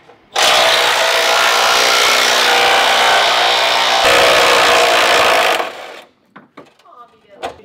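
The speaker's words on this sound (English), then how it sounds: "Now I'm going to grab some tools and we're going to unbolt the bumper." Tools work on the bumper of a 2002 Ford E450, giving a loud, continuous broadband grinding or ratcheting burst for about five seconds that then cuts off abruptly, leaving a few faint clanks and knocks.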